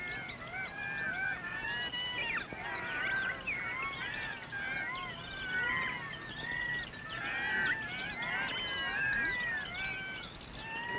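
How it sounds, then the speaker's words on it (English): Birds and monkeys at a waterhole chattering noisily, a dense continuous chorus of overlapping squawks, honks and calls with no pause, moderately loud and steady throughout. "Birds and monkeys chatter noisily, excitedly, knowing that something is going to happen."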